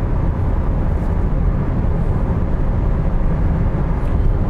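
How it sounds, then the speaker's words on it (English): Steady, loud road and engine roar fills a VW ID.5 cabin at about 110 km/h highway speed, a constant broadband rumble with no talking. "Now we can hear very nicely the loudness of the car at 110"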